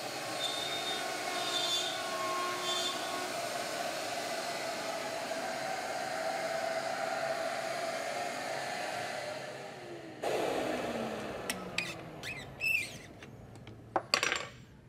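Handheld Shaper router cutting with its bit, a steady whining drone held for about ten seconds, then stopping into quieter workshop handling with a few sharp clicks and knocks.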